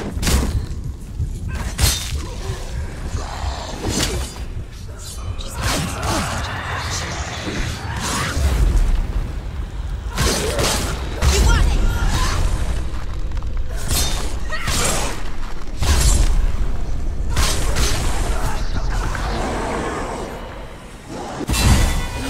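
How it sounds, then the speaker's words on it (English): Combat in Hellblade: Senua's Sacrifice with repeated sharp shattering, whooshing bursts from exploding parries and heavy impacts, loud and continuous across a dense, clashing fight. "I could never get enough of that exploding parry thing."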